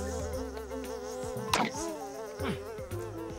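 Flies buzzing close by in a steady, wavering drone with shifting pitch, a few louder passes briefly swelling over the continuous hum.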